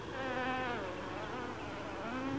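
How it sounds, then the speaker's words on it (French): Bees buzzing in the Farming Simulator 2013 video game on the Polish map, a continuous close droning hum with wavering pitch throughout, no speech. "Donc il y a des abeilles ou des trucs comme ça"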